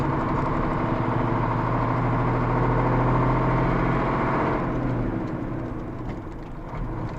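Old Star truck diesel engine idles with a steady low rumble and a mid-range rattle for several seconds, close and loud, with the tone easing slightly near the end.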